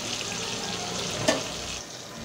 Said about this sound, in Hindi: परवल देखिए कलर भी चेंज हो रहा है, मतलब कि ये फ्राई होना स्टार्ट कर दिया